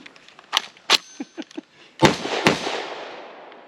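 A Springfield Hellion bullpup rifle fires during quick magazine exchanges outdoors, giving several sharp, loud cracks with echoing tails, spaced irregularly, with smaller clicks and handling knocks between shots.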